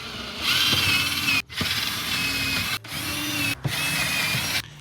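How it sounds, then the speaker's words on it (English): A power drill whirs loudly in three sustained bursts separated by brief stops, drilling holes in an LS-Z, close by, with no one talking. "Then I'm going to come back and drill these holes."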